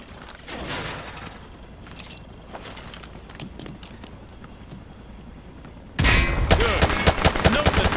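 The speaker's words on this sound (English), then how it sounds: "Toss the grenade down the range to take out several targets at once." Frag grenades tossed down a firing range in Call of Duty: Modern Warfare 2 Remastered: scattered sharp bangs and gunfire cracks, then a sudden heavy blast and rumbling roar near the end, with no talk.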